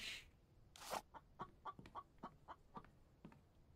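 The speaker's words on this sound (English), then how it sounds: "I hear a chicken." Chicken clucking in the video game The Infected, a string of short, fairly faint clucks in an irregular rhythm after a couple of louder noise bursts, with no talk.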